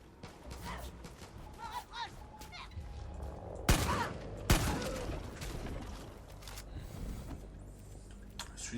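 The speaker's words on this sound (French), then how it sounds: "Le fusil à pompe, il fait vraiment le café." Pump shotgun fired twice in Far Cry 6, two sharp loud blasts a second apart over constant gameplay background noise and ambience.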